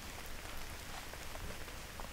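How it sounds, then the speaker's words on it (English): Steady rain patters densely on outdoor surfaces at a ranch, an even hissing wash of drops with no voices over it. "Hey, it's starting to rain, isn't it?"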